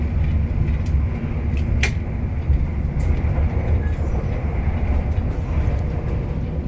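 A Taksaka passenger train on the Jakarta–Jogja line, heard from inside as a constant low rumble and rolling rail noise with a few brief sharp clicks and squeaks.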